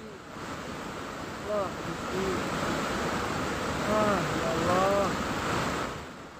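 A flooded river in Tanjung Mulia village rushes with a steady broadband roar, wavering in loudness, while voices call out over the water now and then.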